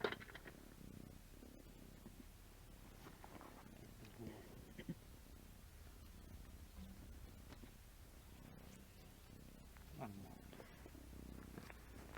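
A low, steady purring from a cat runs quietly and continuously close by, with faint rustling and occasional soft noises.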